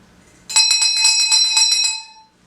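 An exam bell at a hospital rings in a single loud, bright burst of rapid metallic strikes lasting about a second and a half before fading, with no voices.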